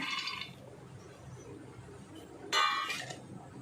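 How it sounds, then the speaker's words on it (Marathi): Peanuts tipped into a pan of spice mix, landing in two brief, bright rattling bursts separated by a quiet pause, close and fairly soft. "आता मी शेंगदाणे टाकते ह्याच्यात"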